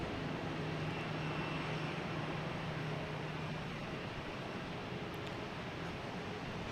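An Embraer Phenom business jet arriving at Boston Logan Airport produces a steady, broad engine roar that holds at a constant loudness throughout, with no voices.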